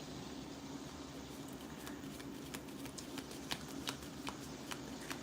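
A deck of cards is shuffled, giving soft repeated riffling clicks and flutters over a steady background hum, fairly faint and with no voices.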